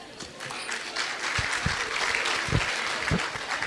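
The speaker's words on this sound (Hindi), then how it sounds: "इन्होंने जो तालियां बजाई इनके सम्मान में" Audience at a community gathering in Bhopal claps after a speech, producing moderately loud, continuous applause with a few heavier, louder claps standing out in the room.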